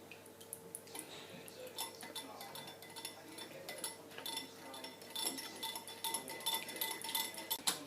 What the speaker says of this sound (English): we're going to add our egg to this, and we're going to whisk that together